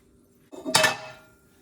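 Chestnuts shaken in a pan with butter and garlic salt, one brief rattling clatter of nuts against metal that rises sharply and fades within about a second.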